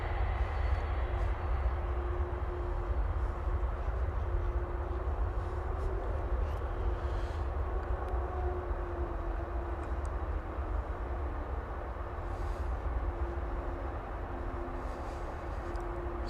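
A Boeing 767 taxis out at Dallas/Fort Worth Airport, heard as a steady, distant jet-engine rumble and whine under faint ambient noise, with no speech.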